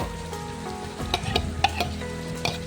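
Chicken tikka masala marinade fries and is stirred in a pan with salt, a close, steady sizzle with scattered sharp crackles and spatula scrapes and no talk.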